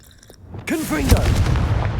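Confringo blast spell cast in Hogwarts Legacy: a short magical whoosh swells into a loud explosive boom with rumbling tail, preceded by a brief quiet stretch.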